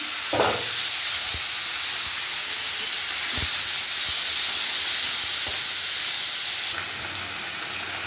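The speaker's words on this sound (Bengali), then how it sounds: "এবার ফোড়নটা হয়ে গেছে, কচুর ডাঁটাগুলো দিয়ে দিলাম।" Taro stalks hit hot oil tempered with mustard seeds, nigella and dried red chillies for a prawn dish, giving a loud, steady broadband sizzle that runs throughout, with a few soft clicks of utensils and a slight drop in intensity near the end.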